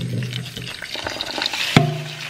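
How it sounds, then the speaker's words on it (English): Cold water splashes and swirls over rice being rinsed in a pot, a close, uneven sloshing with one sharp knock near the end. "I'm gonna wash your rice, cold water, so the rice doesn't start cooking."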